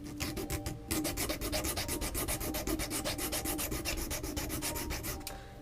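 Rhythmic hand sanding of a homemade werewolf hand prop, a fast, steady back-and-forth rasping of close strokes that continues for several seconds with no talk.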